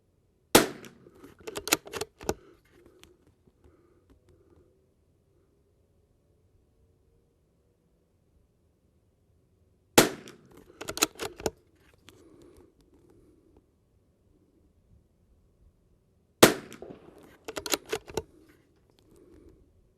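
Three close clusters of sharp, snappy .22 rifle shots from a Christensen Arms Ranger 22, each burst a quick string of cracks, separated by quiet gaps.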